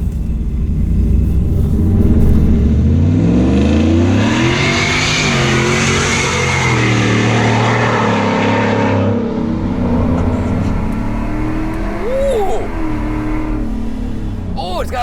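A 770 whp Ford F-150 pickup engine revs up and rumbles loudly, pitch rising and falling, then settles with a brief whoosh as the throttle is released.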